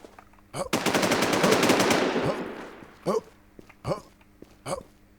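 Automatic weapon fire in the online shooter game Warz, a loud sustained burst of rapid shots followed by a few separate short shots, with a voice briefly heard.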